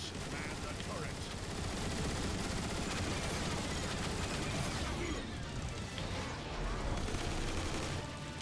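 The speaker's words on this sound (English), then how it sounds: "Think you can take them out with the gun emplacements?" Turret gun emplacements firing at Decepticon Seekers in Transformers War for Cybertron, a steady stream of rapid mechanical shots with a dense wash of game combat noise throughout, moderately loud and unbroken.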